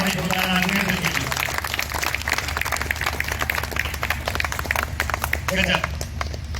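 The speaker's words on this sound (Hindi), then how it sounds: "एक बार जोरदार तालियां भाई जोरदार राघवेंद्र के लिए" An audience at a drama festival in Gosaiganj, Ayodhya, applauds a performer loudly, with dense, steady clapping that continues throughout while a voice speaks over it.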